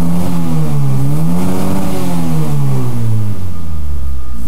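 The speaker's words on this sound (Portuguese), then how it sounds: "Ele tá sem a bomba ainda de combustível, então ele tá dando falta." Chevette engine running without its fuel pump fitted, revving loud and close with a wavering, uneven pitch that rises and sags as it misfires and stumbles, no voices over it.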